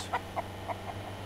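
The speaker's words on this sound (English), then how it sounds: "Oh, there's another chicken." A chicken in Mist Survival gives a few short clucks, four spaced bursts at moderate distance over a low steady ambient hum.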